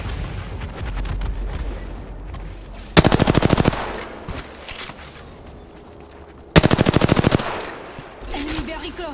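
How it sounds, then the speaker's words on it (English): Video game gunfire rings out in two loud, rapid automatic bursts, each lasting under a second, with quieter game sounds between them. "Enemy very close. Taking fire."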